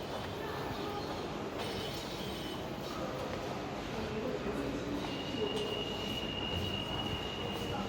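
A London Waterloo & City Line underground train rumbles through the tunnel with a steady, roaring hum and faint wheel squeal, heard at moderate distance and fairly quiet throughout.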